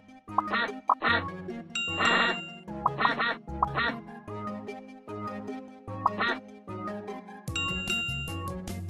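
Cartoon ducks in a children's word game give a run of bright, close quacks in a bouncy rhythm, mixed with chiming dings and musical jingle tones.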